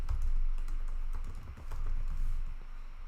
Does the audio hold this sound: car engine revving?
no